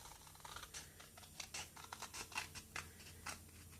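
Scissors snipping along a scored line in paper while making a small ghost treat holder, a series of short, close, crisp cuts in an uneven rhythm, with no talking.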